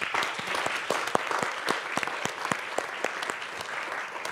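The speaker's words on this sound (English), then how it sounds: "Can we get a round of applause for Adéla?" Applause from a conference audience, a steady patter of many hands clapping nearby for several seconds without any voices on top.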